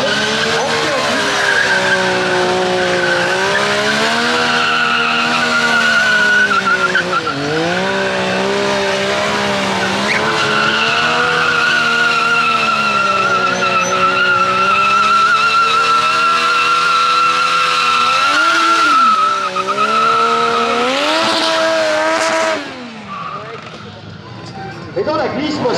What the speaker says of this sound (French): je freine l'avant de ma moto avec le frein avant, je ralentis la roue et je fais patiner la roue arrière